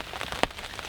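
Rain patters on a ground blind during a turkey hunt, a soft, close, crackling spatter with one sharper drop tap, no voices.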